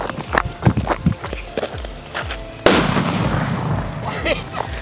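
A larger pigeon-size paper bomb firecracker from Sivakasi goes off with one loud, sudden burst near the middle, after a run of smaller sharp pops, leaving a noisy rumbling tail.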